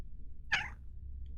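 A cat gives a single short meow, close and clear against a quiet background.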